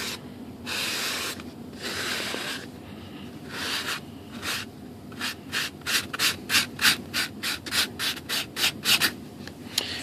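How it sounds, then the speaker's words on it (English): A sanding block rubs over the foam of a model Airbus A380 flap, first in a few long slow passes, then in a quick run of short rhythmic scrubbing strokes, close up and with no talking. "That last little bit we'll get with the sanding block."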